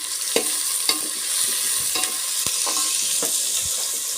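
Chopped tomatoes sizzle steadily in a hot pan while a spoon scrapes and stirs with occasional sharp clinks, close and continuous with no talking.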